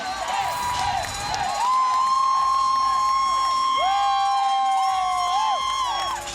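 Crowd cheering at a college gymnastics meet between Air Force and Clemson, loud sustained roar and whoops filling the arena while a coach fires up the fans, with a commentator's voice running over it.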